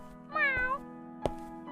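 A kitten crossing a street gives a single high, wavering meow, close and clear, followed by a couple of faint knocks against a steady low hum.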